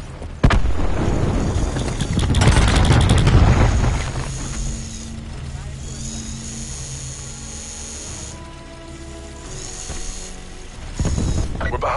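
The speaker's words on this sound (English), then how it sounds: "Cluster grenade going out." A cluster grenade launched and bursting in a video game, with a loud dense rumble of overlapping explosions for several seconds, then a quieter mechanical hum and faint tones before another burst near the end.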